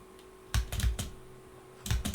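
Computer keyboard typing during a Minecraft session, two short clusters of quick close keystrokes separated by a pause, with a faint steady hum behind.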